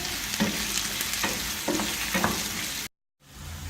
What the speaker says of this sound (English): So the pan's nice and hot, and I'm going to throw in the onions firstly.